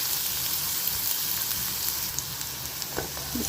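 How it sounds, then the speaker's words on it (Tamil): Onions sauté in hot oil in a pan, giving a steady, close sizzle with a few faint scrapes and taps from stirring. "இந்த வெங்காயம் நல்லா வதங்கணும்"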